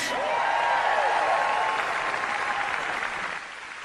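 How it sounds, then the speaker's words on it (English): Convention audience applauds and cheers for House Democratic leader Hakeem Jeffries, a dense steady wash of clapping with some voices, loud at first and easing slightly toward the end. "how about another cheer for our great House Democratic leader in Washington, Hakeem Jeffries"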